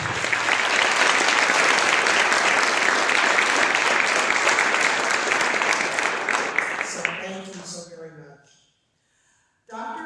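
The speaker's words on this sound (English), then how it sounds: "Can we give a round of applause?" A large auditorium audience applauds, loud and dense, thinning out over the final seconds into scattered claps, a brief silence, then a burst of sound.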